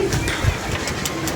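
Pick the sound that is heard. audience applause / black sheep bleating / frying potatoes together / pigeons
pigeons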